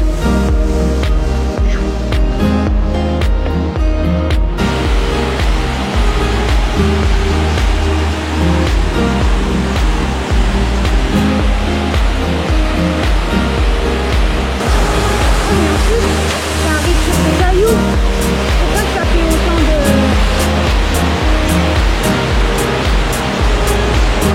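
A waterfall roars in a steady, loud rush of falling water close by, while people talk over it.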